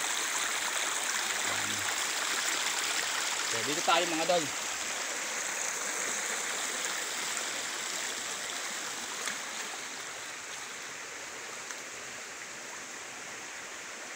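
Clear stream water flows steadily among bamboo in a broad, constant rush, with someone speaking briefly over it near the start.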